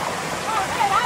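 The waterfall at Seven Sisters in Grenada roars as a steady, close, broadband rush of falling water, while a voice speaks faintly underneath.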